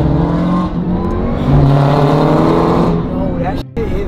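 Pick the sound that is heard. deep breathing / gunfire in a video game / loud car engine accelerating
loud car engine accelerating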